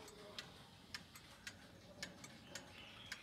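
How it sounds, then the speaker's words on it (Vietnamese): A Jura pendulum clock ticking in an even, slow rhythm, about two ticks per second. Six crisp, fairly faint ticks sit over a soft background hiss. "Quả lắc rất là khỏe, có nghe thấy tiếng tích tắc nhé"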